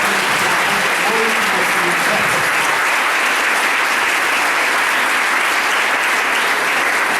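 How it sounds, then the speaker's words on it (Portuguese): A Pentecostal church congregation at a Pentecost festival service claps loudly and continuously, a thick, even roar of applause that fills the whole stretch without pause. "Salva de palmas para Jesus"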